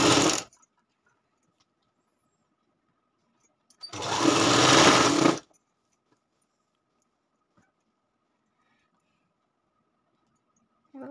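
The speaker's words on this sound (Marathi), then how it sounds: "मग आता ही दाब शिलाई मारून घ्यायची वरून" A sewing machine runs top-stitching on a lined katori blouse, a short burst and then a steady whirring run of about a second and a half, close and alone between quiet pauses.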